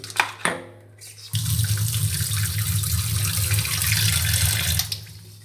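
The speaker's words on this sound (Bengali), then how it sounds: "মাছগুলো আগে ভিজিয়ে দিই" After a couple of brief kitchen clatters, a tap opens and water pours steadily and loudly into a container to soak bata fish, a close continuous rush that ends abruptly.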